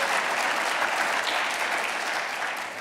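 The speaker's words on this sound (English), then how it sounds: "How about a nice round of applause for your breakfast providers?" Brief, steady applause from a morning event audience thanking breakfast providers, a dense close crowd of clapping that holds evenly and eases slightly at the end.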